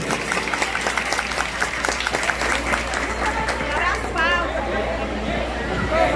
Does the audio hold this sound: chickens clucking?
no